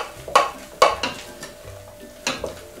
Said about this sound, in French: je vais mettre les œufs en neige dans le chocolat, un petit peu à la fois